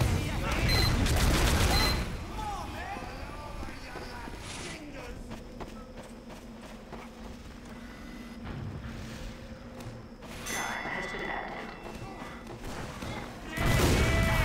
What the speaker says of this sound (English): that freaking sentry gun keeps getting me